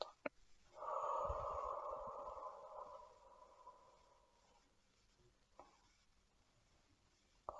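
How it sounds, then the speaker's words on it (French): A slow, deep breath during a guided sophrology relaxation exercise: a long, soft airy exhale that gradually fades, close and quiet in an otherwise near-silent room, with a few faint clicks. "Prenez une profonde inspiration en gonflant le ventre et la poitrine. Soufflez en les laissant redescendre."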